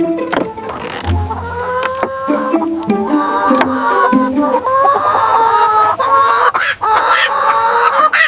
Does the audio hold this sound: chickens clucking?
yes